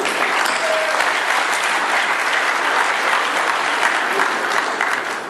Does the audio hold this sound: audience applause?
yes